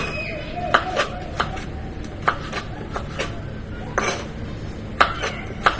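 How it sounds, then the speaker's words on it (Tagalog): A knife slices vegetables thinly on a board for fresh spring rolls, making crisp, evenly spaced chopping taps over roughly six seconds against a quiet room background. "so hiwain lang natin ng manipis"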